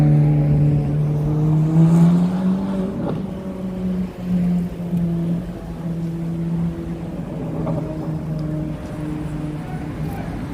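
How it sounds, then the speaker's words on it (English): City traffic in Washington DC heard from the sidewalk, with close car engines droning and revving as vehicles pass by loudly, a steady mix of motor noise and passing swells. "You gotta watch the cars, they want to run you over."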